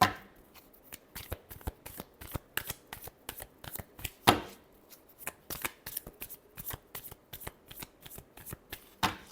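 Tarot cards are shuffled by hand in rapid, continuous riffling bursts, close and crisp, with a brief louder slap partway through, then the steady shuffling resumes.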